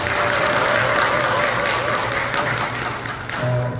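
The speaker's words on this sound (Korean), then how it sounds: "큰 박수 한번 부탁드리겠습니다" Audience at a World Migrants Day community celebration in Pocheon, Korea applauds after a provincial councillor's congratulatory speech, a sustained roomful of clapping with some tonal background sound running underneath.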